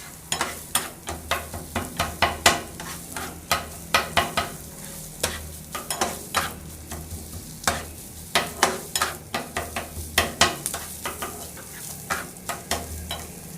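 Chicken with cucumber, capsicum and onion stirred in a hot pan for restaurant-style shawarma, a steady sizzle under rhythmic scraping and clanking of a spatula against the metal, repeating roughly every half second, close and clear.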